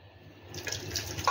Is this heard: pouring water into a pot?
yes